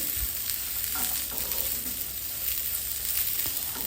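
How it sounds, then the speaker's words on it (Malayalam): Long beans (achinga payar) sautéing in a pan give a steady, dense sizzle up close, with faint stirring scrapes and no talk. "അച്ചിങ്ങ പയർ ഒന്ന് സോഫ്റ്റ് ആവുന്നവരെ ഒരു ഹാഫ് കുക്ക്ഡ് ആവുന്നവരെ നമ്മളൊന്ന് വഴറ്റും"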